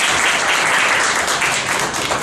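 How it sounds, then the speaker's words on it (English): Dense, steady applause from an audience after a business idea is finalized, continuous loud clapping filling the whole stretch without a break. "So please give yourself a huge round of applause."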